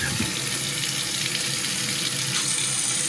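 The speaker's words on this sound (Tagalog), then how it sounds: "Buksan natin ang gripo." Water running from a kitchen faucet during a sink renovation, a steady close hiss and splash that holds evenly throughout, with no talk.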